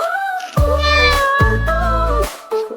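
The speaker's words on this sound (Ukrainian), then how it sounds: "Кіт Оксани справжній красунчик" A handsome pet cat meows twice in drawn-out, clear calls close to the listener, with a brief third cry starting at the end.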